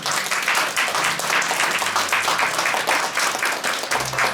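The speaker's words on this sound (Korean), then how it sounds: "큰 박수 다시 한번 부탁드립니다." A loud, sustained burst of audience applause at a year-end city council ceremony where civil servants receive commendations, dense clapping filling the room steadily for several seconds.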